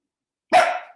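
A single sharp dog bark indoors in a busy condo, loud and close, arriving suddenly after a stretch of silence and trailing off within half a second.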